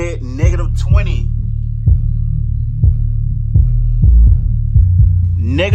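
Folded horn subwoofers driven at -20 dB on the amp pump out deep, loud bass with a steady hum and rhythmic throbbing pulses, while a person talks briefly over the low rumble.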